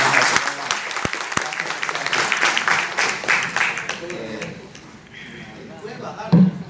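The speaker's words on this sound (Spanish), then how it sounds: "Un aplauso." An audience at a mediation techniques talk applauds with dense, steady clapping that fades after about four seconds, with people talking afterward.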